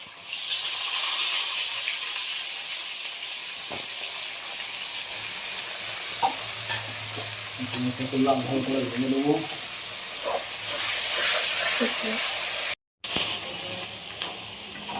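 Chopped onion sizzling in a pan as a chicken and potato curry gets started at home, with a steady hiss and scattered clinks of stirring, a voice murmuring partway through and a short cut near the end.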